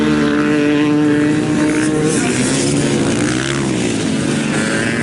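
Flat track speedway motorcycles race in a loud, continuous engine roar with shifting harmonic tones as the bikes pass, filling the whole stretch with no clear talk over it.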